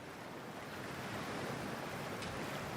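Ocean waves in the video game Cyberpunk 2077 make a constant, even wash of surf with a soft, wind-like hiss, steady and unbroken.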